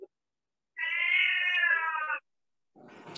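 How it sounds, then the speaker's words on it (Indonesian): A cat meows in one long drawn-out, wavering call lasting over a second, clear and close against silence, followed by a brief rustle. "Ada kucing"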